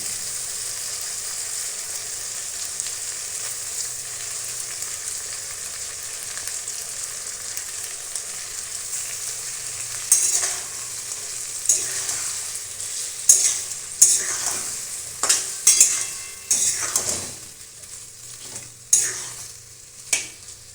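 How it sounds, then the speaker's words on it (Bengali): A paste of tomato, ginger, green chilli and peas fries in a pan with a steady soft sizzle, then louder stirring scrapes and spatula knocks come in bursts during the second half, close up and without talk. "এখন এতে এই টমেটো আদা কাঁচা লঙ্কা আর মটরশুঁটি দিয়ে যে পেস্ট আমি তৈরি করেছি সেটা দিয়ে দিচ্ছি"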